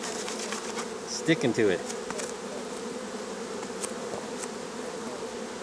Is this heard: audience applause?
no